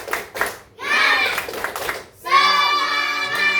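A classroom group of children does a spirit clap: a few sharp claps at the start, then the young voices chant loudly together, close by.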